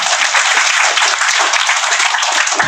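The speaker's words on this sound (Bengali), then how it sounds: "স্যারের জন্য আমি একটা স্পেশাল করতালি" Audience at a Bengali business programme gives the company's MD a sustained, dense round of applause, a steady wash of many hands clapping with no talk.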